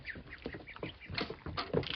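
Ducks quacking close by, a steady series of short nasal calls overlapping one another.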